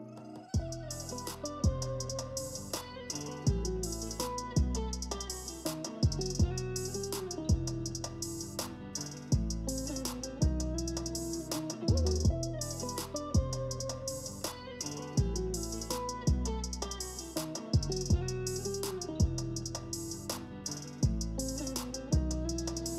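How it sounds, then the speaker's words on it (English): Music with a steady punchy beat and deep bass notes plays through Technics SB-LX30 loudspeakers with a DIY crossover, tweeter and woofer together, full-range with crisp highs, continuous with no talking. "That was the sound of the tweeter and the woofer together."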